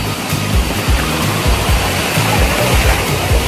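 Kataw Falls, a cold-spring waterfall, roars with a dense, continuous rush of falling water, loud and steady throughout with no voices.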